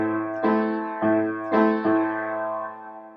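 Piano plays the chords of a song with both hands, four clear struck chords alternating between left and right hand, each ringing briefly before the next, close and alone.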